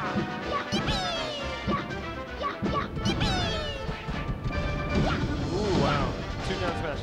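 Down smash attacks in Super Smash Bros. Melee, in a Luigi versus Captain Falcon grand finals set, land as a rapid series of loud crashing hits and whooshes amid game effects, with commentators talking over them.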